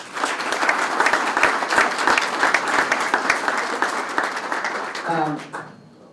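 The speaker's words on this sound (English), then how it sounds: "would you just give those people a round of applause, please?" Audience applause for guests from Tourism Ireland and Invest in Ireland at a hockey tournament announcement, a dense burst of many hands clapping with some voices mixed in, fading out over the last second.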